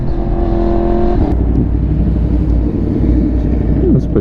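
A motorcycle engine rumbles loudly and steadily throughout, with a sharp transient near the middle as the exhaust pops and crackles amid the continuous drone.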